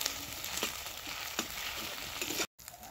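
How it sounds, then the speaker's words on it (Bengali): Chopped onions fry in a pan with ginger-garlic paste and whole bay leaves, a steady close crackle with a few light stirring clicks and a brief dropout near the end. "পেঁয়াজ কুচিতে একটু নাড়াচাড়া করে নিয়ে ভাজা হয়ে আসলে তারপর আদা রসুন বাটাটাই দিয়ে দেব।"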